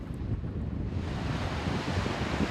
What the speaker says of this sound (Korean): 수직 절벽 끝 파도가 넘실대는 이곳이 오늘 야생을 만날 무대입니다.